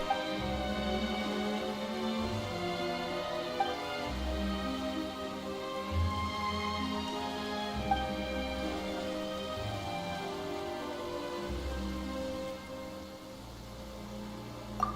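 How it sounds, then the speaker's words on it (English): Steady rain falling in the fantasy game Genshin Impact, a constant even patter with low rumbling swells underneath, no voices. "Why is it raining all of a sudden?"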